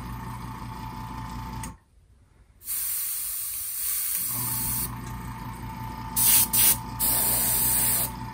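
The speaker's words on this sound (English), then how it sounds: "I'm going to go airbrush these eyeballs real quick" An airbrush sprays paint in a steady hiss that cuts out briefly, resumes, and ends in a few short bursts, with no one speaking.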